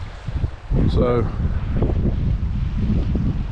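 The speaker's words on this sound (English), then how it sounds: "There's the wind again." Wind blowing outdoors near a creek after a storm dropped a tall poplar tree, a steady loud rushing buffet on the microphone throughout, with someone speaking briefly over it.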